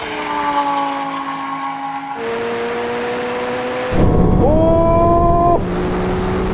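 A Ferrari 296 GTB screams past in a drag race, its engine note climbing through gears in steady rising tones with abrupt shifts, loud and sustained with no voices.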